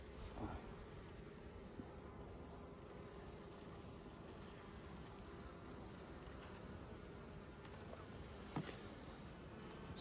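A steady, dense buzzing of many honey bees at a hive during a midwinter inspection fills the clip, close and continuous, with no talking.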